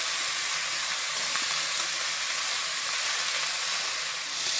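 Leafy greens sizzling in hot oil with browned onion and chili, a steady close hiss and crackle of frying that holds evenly throughout with no talking.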